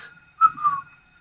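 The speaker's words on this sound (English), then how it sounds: "Yeah, I can almost whistle." A person whistles in a short, breathy attempt while playing the first Silent Hill, two wavering tones close to the listener, faint and uneven rather than a clean call.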